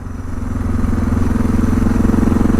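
A Suzuki DR650 motorcycle engine runs loud and close, its rumble swelling over the first half-second and then pulsing in an uneven, stuttering beat as the throttle is held.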